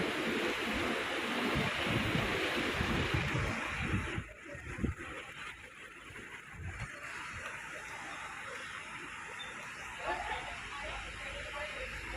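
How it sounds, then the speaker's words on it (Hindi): Rushing stream water near the Neelkanth Mahadev temple, a steady loud broadband wash that runs unbroken for the whole stretch with only a brief dip partway through. "खड़का भी सुना है पानी का।"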